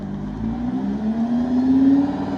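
A Lamborghini Huracán Performante engine hums and rises steadily in pitch as it revs, heard close and fairly loud for a couple of seconds with no talking.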